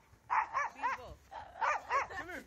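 A dog on a snowy porch during a blizzard barks in a quick series of sharp yips and barks, moderately near but fairly quiet, with a short pause between two bursts.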